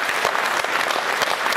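Steady applause from an audience at a poetry performance, a brief burst of dense clapping heard close and evenly sustained.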